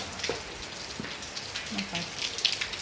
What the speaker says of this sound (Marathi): पाऊस काय उघडा नाही